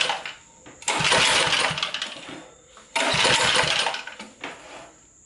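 A 1970s Sears generator engine cranked at half choke gives two loud, close pulls of roughly two seconds each, both sputtering without catching, separated by a short pause.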